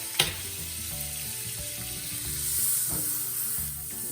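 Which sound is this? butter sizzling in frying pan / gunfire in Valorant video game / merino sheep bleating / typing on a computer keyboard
butter sizzling in frying pan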